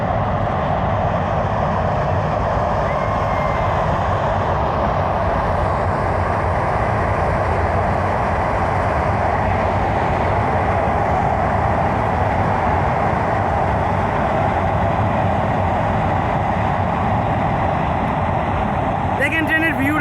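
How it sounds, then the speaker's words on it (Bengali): A distant train rolls past in a long, even rumble and roar that stays level throughout, with people talking over it. "ওই দেখেন ট্রেন যাইতেছে।"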